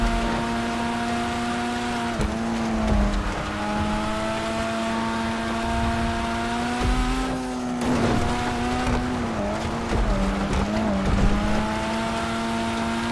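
A race car driven in the video game GTA on a snowy course, a continuous engine drone that rises and dips with gear changes and revs, steady and close, with no talk.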